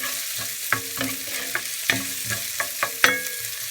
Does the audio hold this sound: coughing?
no